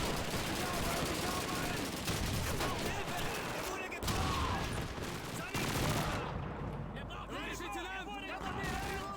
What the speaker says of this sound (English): I heard gunshots outside.